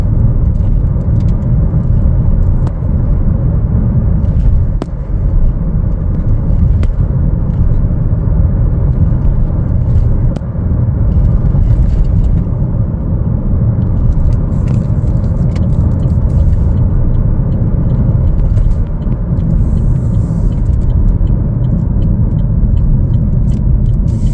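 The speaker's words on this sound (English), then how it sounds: "Look at how quick it accelerates. Really smooth drive." A 2025 Chevrolet Trailblazer AWD LT accelerates, heard as a loud, steady low engine and road rumble that holds for the whole stretch with no talking.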